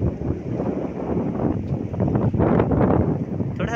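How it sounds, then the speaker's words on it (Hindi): A strong monsoon wind blows outdoors, a loud, continuous gusty roar with rustling and buffeting on the microphone. "बहुत ना हवा तेज चल रहा है ना"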